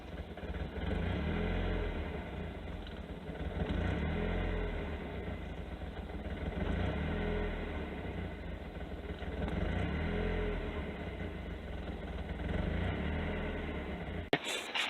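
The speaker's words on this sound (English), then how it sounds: "whenever it's idling, it's bouncing back and forth between 15 or 1100 to 200" A Mazda Miata engine idles with a faulty, unsteady speed, its low hum rising and falling in slow repeated surges, heard close and alone without talk.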